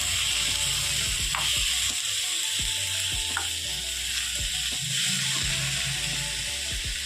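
Tomatoes cook with turmeric in about half a spoon of oil in a pan, making a continuous close sizzle broken by scattered light clinks.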